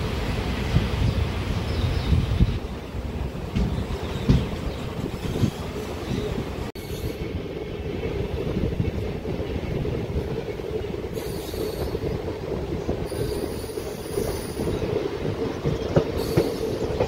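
A DEMU local train pulls away from a halt and keeps running, with a steady loud rumble of wheels on rail, rattling carriages and occasional clicks and squeals throughout.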